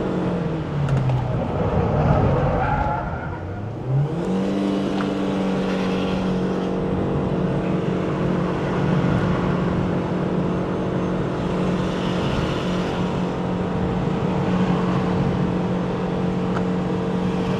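A 2026 Proton Saga Premium CVT straining up the Genting climb in Malaysia, engine droning loudly and steadily with a rising then held CVT whine, continuous road and wind noise, no talk.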